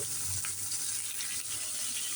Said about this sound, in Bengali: আদা রসুন ভাজা হয়ে গেছে এবার আমি দিয়ে দিচ্ছি কুচি করে রাখা মাংসগুলো